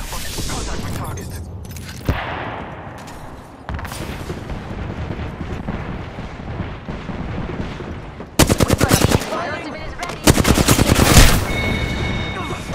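Apex Legends battle gunfire crackles throughout, with scattered single shots early on and then two dense, loud automatic bursts near the end, layered with game sounds and bits of voice chatter.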